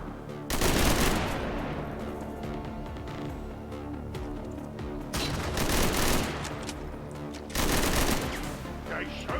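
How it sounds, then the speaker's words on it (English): Heavy gunfire in the game XCOM 2, bursting out in three loud volleys, each of rapid overlapping shots, separated by quieter stretches of lingering battle noise. "They're shooting us."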